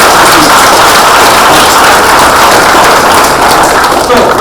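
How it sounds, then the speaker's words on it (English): Loud, dense applause from a large audience at a college science forum, continuous and close, the many clapping hands blending into a steady roar with no pauses. "Give a big round of applause to him."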